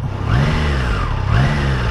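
A Triumph Tiger Sport 660 A2 motorcycle engine is revved while the bike stands still, with two rising and falling throttle blips over a steady idle, close and loud.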